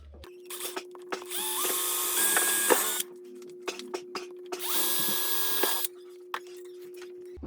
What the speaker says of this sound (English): I'm just going to drill a hole through the top here on either side.